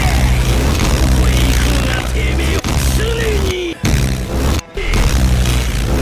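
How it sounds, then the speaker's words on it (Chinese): Activation effect for The Hand, the space-erasing stand from the JoJo anime, built on a low-frequency shockwave layered with twisted metallic noise. It plays as a loud, dense roar that cuts out abruptly a few times before surging back. "大聪明的轰炸空间发动音效。"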